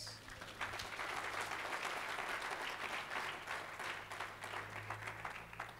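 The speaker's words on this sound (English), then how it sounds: "Let's clap for Jesus." A church congregation claps together during a sermon, a dense, steady wash of hands that carries for several seconds over a low hum in the room.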